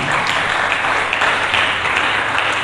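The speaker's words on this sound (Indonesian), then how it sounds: "Mari kita berikan tepuk tangan" A congregation applauds during a church sermon, a dense and even spread of clapping at fairly close range that holds steady for the whole stretch, with no voice over it.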